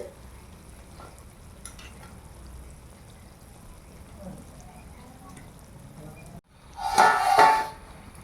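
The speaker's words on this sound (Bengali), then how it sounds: "এইগুলো ভাজা হয়ে গেলেই আমার সব খাজা ভাজা হয়ে যাবে" Khaja sweet pastries fry in hot oil, giving a soft, steady low sizzle that ends in a short, louder burst of clattering and bubbling near the end.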